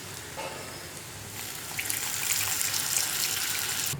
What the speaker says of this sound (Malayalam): ഇനി നമുക്കിതിലേക്ക് പുളി ചേർത്ത് കൊടുക്കാം